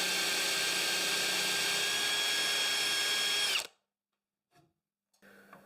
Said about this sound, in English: Then I'm going to drill a hole probably twice as deep as the end of the bolt